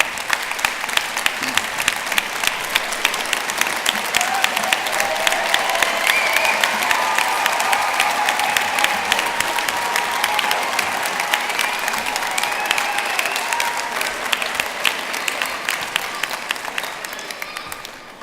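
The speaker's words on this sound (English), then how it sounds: "So please stand and give them a vote of thanks and applause." A graduation ceremony audience at Ulster University in Belfast stands and applauds, sustained dense clapping from a large crowd filling the hall steadily for the whole stretch, tapering slightly at the end.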